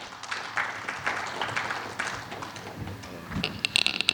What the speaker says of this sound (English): Let's applaud for Mr.